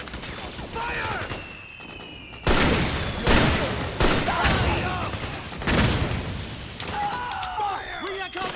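Heavy automatic gunfire and booms in Metal Gear Solid 4: Guns of the Patriots come in repeated loud bursts with whizzing ricochets between them, and combat shouts break in along the way.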